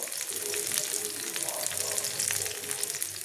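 Pumpkin-leaf fritters with dried fish paste frying in oil, a dense, close, steady sizzle throughout with faint stirring movement.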